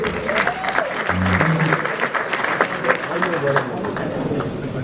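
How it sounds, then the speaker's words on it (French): Loud, brisk applause from the crowd at an awards ceremony for artists in Kinshasa, mixed with an announcer's voice over music, the clapping dense and continuous throughout. "On l'applaudit encore très très fort, mesdames et messieurs."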